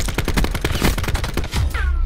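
Rapid bursts of gunfire rattle through a gunfight in Call of Duty: Black Ops 4, dense overlapping shots close and loud for two seconds, ending in a ringing tonal whine.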